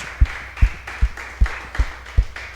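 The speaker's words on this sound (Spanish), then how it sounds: "Dale un fuerte aplauso a Jesucristo." Congregation in a church clapping in unison, about seven slow rhythmic claps at an even beat, close and moderately loud with a hum of room noise between.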